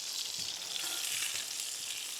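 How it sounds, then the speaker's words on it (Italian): Garlic and sage sizzle steadily in a pan alongside a steak, a soft continuous hiss with light crackle, heard alone and fairly quiet. "Rimettiamo il nostro aglio, la nostra salvia, vai così"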